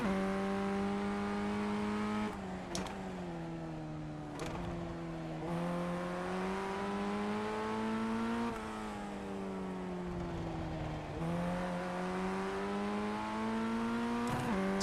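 Ray Formula 1600 race cars battle side by side at Okayama circuit, the close in-car engine screaming at high revs with repeated sharp gear changes and lifts, loud and continuous without talk.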